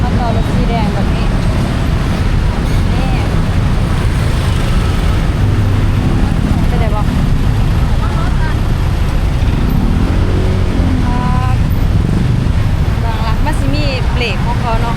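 Busy Bangkok street with a red songthaew truck among passing traffic, a loud, steady roar of engines and tyres close by, with a voice talking over the din.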